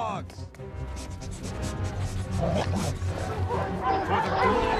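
Several dogs bark and yip in quick bursts, growing louder, mixed with voices talking.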